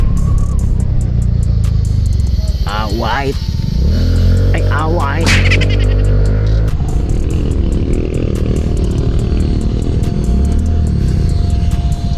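Road traffic heard from a moving motorcycle, a loud continuous engine drone and road rumble with passing vehicles, a rising and falling whine midway, and a person talking briefly over it.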